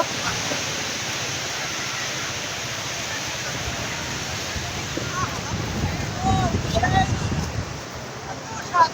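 Sea waves roll onto the beach at Kuakata as a broad, continuous wash of surf, moderately loud with wind noise, and a swell of louder breaking water and brief faint voices toward the end.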